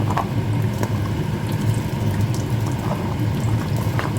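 Brinjal and potatoes frying in hot oil in a Jaffna-style home kitchen, a steady loud bubbling sizzle with faint crackles throughout, no voices.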